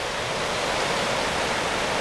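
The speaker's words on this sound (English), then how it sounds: "Water's really high, a lot of runoff here from the Falls Lake." High runoff water from the Falls Lake dam rushes in a dense, constant hiss-like roar, loud and unbroken throughout, with no talk.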